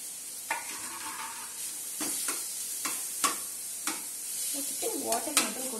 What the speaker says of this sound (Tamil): ஆனியனை டீப் ஃப்ரை பண்ணிட்டு நம்ம வந்து உருளைக்கிழங்கு பீட்ரூட் மட்டும் போடணும்.